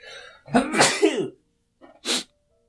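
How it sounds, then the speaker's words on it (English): A single close, forceful sneeze bursts out after a short intake of breath, followed by a brief sniff and a sharp exhale before silence. "I'm gonna sneeze."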